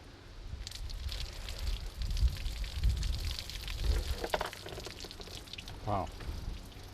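Water is poured from a jug together with a copper bullet, giving a splashing trickle with a few knocks and a brief bright clink near the end.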